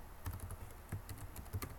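Rapid keystrokes on a computer keyboard as a login and password are entered, a quiet run of taps in clustered bursts with no voices.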